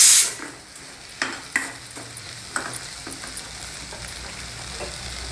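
Dal being stirred with salt in a pan, a spoon scraping and tapping the metal in a few distinct knocks over a soft background hiss, close and moderately loud, no talk.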